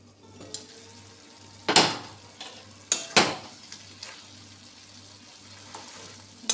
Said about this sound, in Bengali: এবার ঢাকা খুলে একটু নাড়িয়ে নেব।